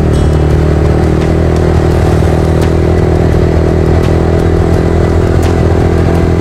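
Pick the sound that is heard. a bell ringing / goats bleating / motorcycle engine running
motorcycle engine running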